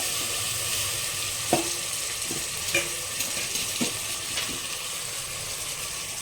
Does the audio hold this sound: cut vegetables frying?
yes